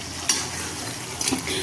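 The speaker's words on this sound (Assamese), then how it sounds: "এইফালে এয়া মায়ে মাছ ফ্ৰাই কৰি আছে" Fish fries in a pan with a steady close sizzle, broken by two brief scraping stirs of a utensil against the pan.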